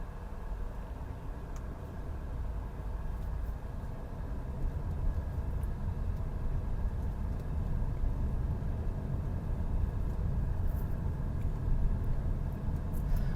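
A 2024 MG HS SUV on a test drive, with a steady, fairly quiet cabin drone of engine and road noise that continues evenly throughout, with no talking.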